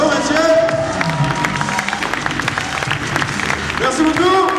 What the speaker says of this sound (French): on applaudit Mathieu Moreau et son ripstick